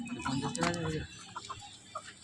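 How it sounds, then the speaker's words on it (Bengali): A desi village chicken at a rural weekly market clucks in a burst of close, loud calls, followed by sparser clucks against busy market background noise. "আজকে এখানে এসে একটা দেশি মুরগি কিনলাম"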